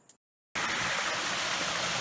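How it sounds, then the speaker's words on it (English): Rainwater runs off a hill into a reservoir with a loud, steady rush that begins abruptly after a brief quiet gap. "there's more water coming off the hill now surrounding the reservoir"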